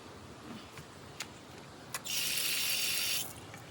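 Water gushes from a campsite dishwashing sink tap in front of the restrooms for a little over a second, loud and near, after a few faint clicks and knocks against a quiet background.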